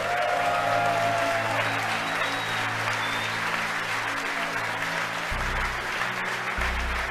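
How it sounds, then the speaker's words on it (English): Applause from staff in the SpaceX launch control room during a Falcon Heavy launch, a steady broadband wash of clapping heard from behind, with a low background hum and loud throughout. "You can hear the applause behind me as we've gotten past maximum dynamic pressure."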